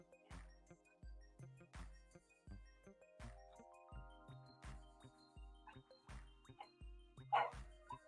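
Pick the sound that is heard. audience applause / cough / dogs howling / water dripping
dogs howling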